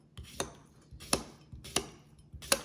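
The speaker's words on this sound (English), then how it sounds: "Place the cucumber in between and just cut at a 45-degree angle" A knife slices a cucumber held between two chopsticks at an angle, producing four crisp, evenly spaced chops on a cutting board, close and clean with nothing else audible.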